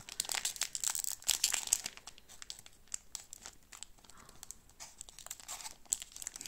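A foil booster pack of Evolution Céleste trading cards is unwrapped with crisp crinkling and tearing, quick bursts of rustling close up, then quieter stretches between bursts.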